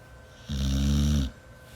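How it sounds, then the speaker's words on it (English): A dog snores close by, a single long, loud, rumbling snore in the quiet room. "The dog is snoring, guys."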